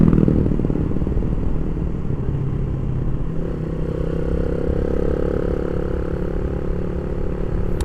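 A 150 cc motorcycle engine rumbles low and steady at close range while riding, with a rough, throbbing tone and some clattering wind noise layered over it throughout.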